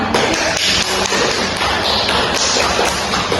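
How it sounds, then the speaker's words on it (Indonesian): Applause in a school classroom for a student group: dense, steady clapping from many hands, close and continuous throughout with no talk. "kita beri aplaus untuk kelompok ya"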